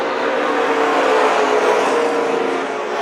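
Race cars at Kern County Raceway during a SPEARS Tour Series event roar steadily as the field circles the track, with a dense, continuous engine drone that stays loud and even throughout.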